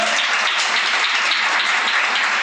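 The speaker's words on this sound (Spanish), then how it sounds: "¿Cuántos aplauden al Señor?" Church congregation applauding during a sermon, a dense, even roar of clapping from many people that holds steady and loud for the whole moment.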